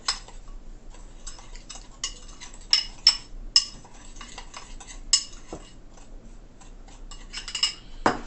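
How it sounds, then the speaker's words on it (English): A utensil scraping and clinking against a bowl while mixing seasoning for baby back ribs, with irregular light taps and scrapes close by and no voices. "So I'm gonna be adding all of this seasoning and just mix together."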